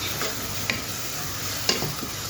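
Crushed garlic and ginger sizzle steadily in a hot pan for shrimp, with a couple of sharp utensil clicks as they are stirred and no voices.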